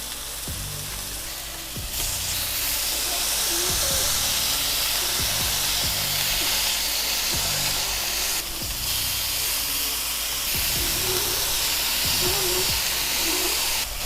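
Burgers and portobello mushrooms fry in a pan with a loud, continuous hissing sizzle that stays steady throughout, punctuated by occasional pops and faint clicks.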